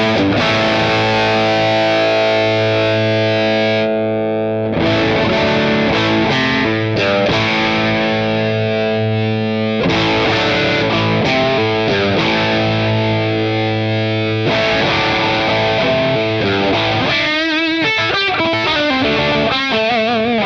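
Heavily distorted high-gain electric guitar through a Guitar Rig 6 amp simulation, loud sustained chords and riffs with brief pauses and a faster chugging passage near the end, no talking.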